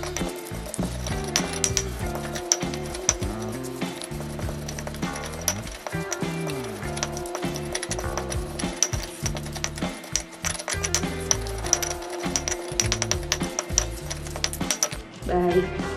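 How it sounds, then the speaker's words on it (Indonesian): A stone mortar and pestle grinds spices into a paste, giving repeated knocking, clinking and grinding strokes in an uneven rhythm, close and fairly loud, with no talk. "Kita ulek terus sampai bumbunya halus."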